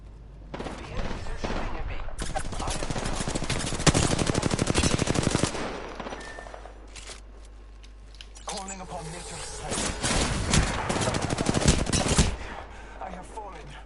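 Enemy gunfire in Apex Legends crackles in dense automatic bursts that run almost continuously, with a louder stretch in the middle and another near the end, while a voice talks over it.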